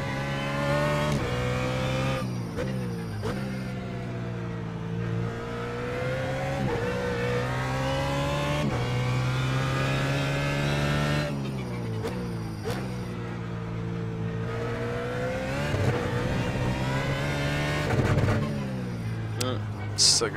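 A BMW GT3 race car laps Oran Park in iRacing, its engine revving loud and close through rising gears with clear upshifts and lifts, under steady talk from a driver.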